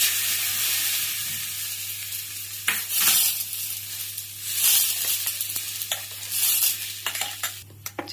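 Dry red chillies and asafoetida tempering in hot oil for a coconut and raw mango chutney, giving a steady broadband sizzle with intermittent stirring clatter and a low electrical hum underneath.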